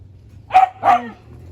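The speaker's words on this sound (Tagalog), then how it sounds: "Ayan, may aso." Two sharp barks from a farm guard dog in quick succession, fairly close, over a low steady hum in the background.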